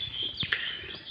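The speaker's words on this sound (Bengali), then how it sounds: "পাখি ডাকে উঠছে" A pet bird gives a few short, faint chirps over a steady background tone, the calls brief and slightly distant.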